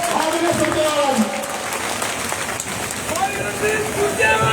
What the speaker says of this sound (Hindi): एक और जोरदार ताली से स्वागत करें आदरणीय सुरजेवाला जी